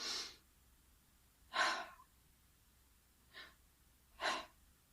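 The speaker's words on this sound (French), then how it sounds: "on laisse la bouche ouverte, on expire. On ouvre la bouche, on inspire." Deep breaths drawn in and pushed out through an open mouth during a meditation exercise: four airy, rushing breaths, close and fairly soft, spaced apart with quiet between them and no talking.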